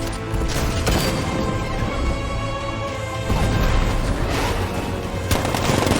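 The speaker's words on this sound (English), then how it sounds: "60mm cannon operational." Rapid heavy cannon fire from a tank in the Batman: Arkham Knight video game, loud continuous blasts and mechanical rattling filling the whole stretch with dense, crashing bursts.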